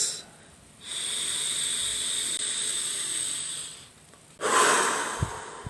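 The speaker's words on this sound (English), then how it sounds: "Breathing in that air, breathing in that prana, breathing in that chi." Slow deep breathing during a wave-breathing exercise: a long airy inhale through the nose lasting about three seconds, a pause, then a louder forceful exhale, close to the mic.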